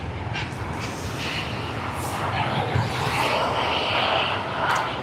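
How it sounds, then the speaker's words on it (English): Jetstar airliner taxiing at Sydney Airport on a sunny afternoon, a steady broad engine roar and whine holding at moderate, fairly distant loudness throughout with no talk over it. "we now are going to have Jetstar, which is getting ready for its flight. It's taxiing."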